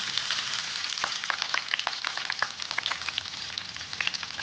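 Two large onions fry with salt in hot oil alongside cloves, cardamom, curry leaves and green chilies for chicken biryani, a steady close sizzle with scattered crackling pops and no talk.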